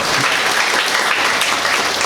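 Dense, steady audience applause fills a hall during a speech, many hands clapping loudly together without a break.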